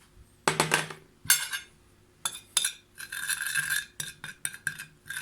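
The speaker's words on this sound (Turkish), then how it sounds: "Karışımımızı karıştıralım." A utensil clinks and scrapes against a bowl, stirring a spice mix into olive oil for beef liver skewers, in several quick bursts of close metallic taps and swirls with short pauses between them.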